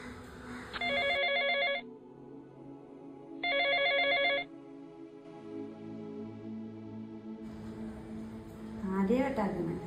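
A telephone rings in two loud, buzzy bursts with a pause between them, then goes quiet as the call goes unanswered. Room tone and a brief voice follow at the end.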